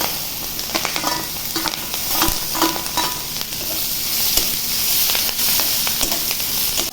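Onion and green chili fry in hot oil for a katla fish fat dish, giving a close, steady sizzle and hiss, broken by sharper clicks of stirring, with no talking.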